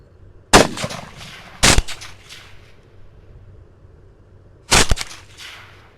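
Three sharp, loud 6.5 Grendel rifle shots fired at hogs in an open field, one early, one a second later and a third after a long quiet gap, each cracking then fading fast.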